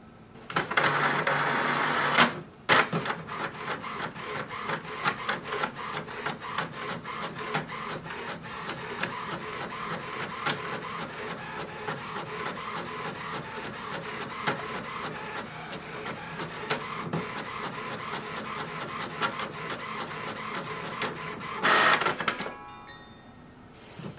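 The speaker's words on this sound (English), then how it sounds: "Here is the welcome sheet, so we can print it and we are ready to use this printer." An HP Envy 6420e printer prints a welcome sheet, a steady mechanical whir and rhythmic feed clatter running for about twenty seconds, with louder bursts at the start and near the end, close up and without talk.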